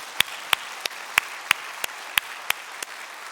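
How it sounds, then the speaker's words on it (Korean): Congregation at a church anniversary revival service clapping in a slow, evenly spaced rhythm, about ten sharp claps over a few seconds, fairly near and distinct. "독립 14주년 축복성회를 허락하신 하나님께 우리 영광의 박수 올려드리겠습니다"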